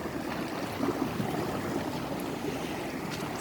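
High sea at the Strunjan coast in Slovenia, a constant wash of waves and wind noise on the microphone, steady and moderately loud with no talking.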